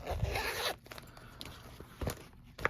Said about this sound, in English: That zipper works great.